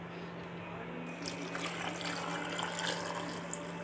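Water pours into a cooking pot over onions, tomatoes and pepper in a home kitchen while bessara is made, a steady splashing rush that lasts throughout under a low, constant hum.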